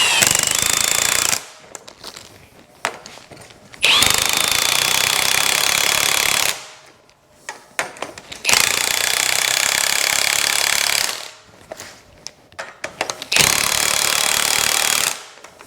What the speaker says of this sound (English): use the impact to go a little bit on each one until the spring is compressed enough to relieve the tension on the spring hat